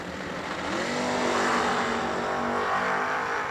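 A 1967 Chevrolet Camaro drag racing at World Wide Technology Raceway, a loud close engine roar that builds and holds steady at high revs for several seconds with no voices over it.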